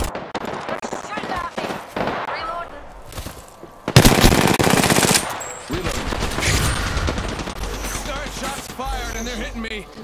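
Rapid bursts of automatic gunfire in a video game, loud and close, with a heavy barrage in the middle and continuing shots over other game effects.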